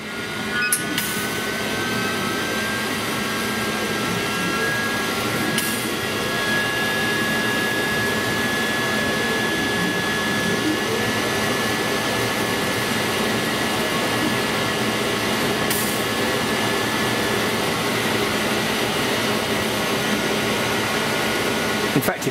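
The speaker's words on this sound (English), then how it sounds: "So we're forcing all our airflow now down through the job." Steady exhaust airflow from a laser cutter drawn down through a honeycomb table with most of the bed blocked off, a continuous close whooshing hum with a faint whistling tone, running alone with no voices.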